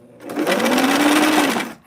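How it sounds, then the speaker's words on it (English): A sewing machine set to 8 stitches per inch runs steadily through thick felt in one continuous whirring burst of about a second and a half, close and loud, starting and stopping abruptly. "8 stitches per inch, because we are sewing through a pretty thick thing of, what's it called? Felt."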